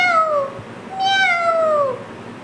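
A human voice mimics a kitten meowing in two high, sliding mews, the second longer and falling away. The sound is close and clear over quiet background.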